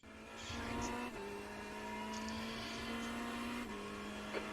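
A Ferrari 488 GT3 Evo race car laps Le Mans in iRacing, a loud sustained engine note from onboard, with upshifts breaking the tone twice and a faint tire squeal near the end.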